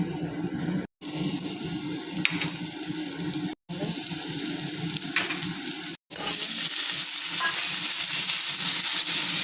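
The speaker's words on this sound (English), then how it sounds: "Now let's boil our pasta. It's boiling." Steady broadband bubbling and hissing from a pot of boiling pasta water, continuous and fairly loud, broken by a few brief cuts to silence.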